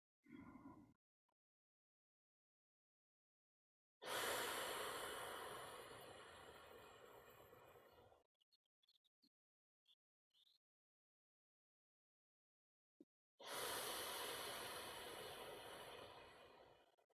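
Two slow, deep breaths, each a long airy rush that fades gradually, separated by several seconds of silence with a few faint small sounds.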